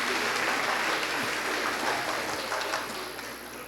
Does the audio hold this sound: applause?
yes